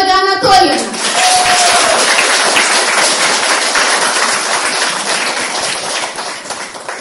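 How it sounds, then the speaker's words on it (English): An audience in a school hall claps, a dense burst of applause that starts after a short spoken bit and holds steady before tapering off, with children's voices mixed in. "And I want your applause to the vice principal of School of Tomorrow program, Сталючук Ольга Анатольевна."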